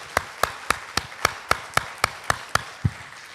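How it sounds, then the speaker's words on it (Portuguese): A church congregation clapping in praise during a sermon, about a dozen distinct, evenly spaced claps in a steady rhythm, fairly close and crisp, with no voices over them. "Vamos aplaudir ao Senhor, que isso tem a ver conosco."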